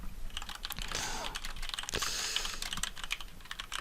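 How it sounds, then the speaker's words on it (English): Typing on a computer keyboard, a run of quick, close clicking keystrokes in an irregular rhythm, fairly quiet and heard alone. "Just typing in Discord now."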